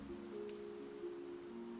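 Steady light rainfall in a Minecraft world, a soft continuous patter heard alone at low level beneath a faint, sustained musical drone.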